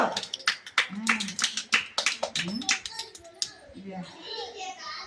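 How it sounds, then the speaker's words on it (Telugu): Small children clapping their hands in a group, a burst of quick, uneven claps and taps, with children's voices chattering and calling out over and after the clapping. "ఓకే క్లాప్స్ కొట్టండి పిల్లలు"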